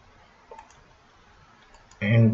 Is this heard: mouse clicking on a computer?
yes